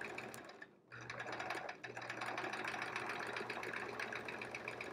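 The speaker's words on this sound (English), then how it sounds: "I'm stitching so densely on this" Sewing machine running continuously for dense free-motion quilting, a fast steady mechanical whir and rattle close by, with a brief pause near the start.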